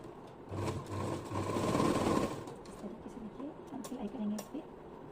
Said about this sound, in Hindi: इस तरीके से यहाँ पे ऐसे सिलाई करते चलेंगे।